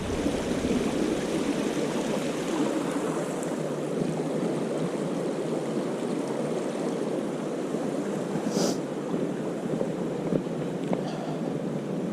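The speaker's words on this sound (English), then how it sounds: "this stream is running into the main one" A stream flowing into a river at Abrams Falls rushes steadily nearby, a continuous broad wash of sound with no voices.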